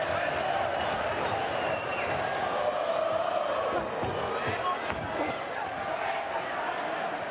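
Boxing arena crowd roaring in reaction to punches during the Ricky Burns versus Kevin Mitchell fight, a steady loud roar of voices and shouts with occasional sharp impacts mixed in.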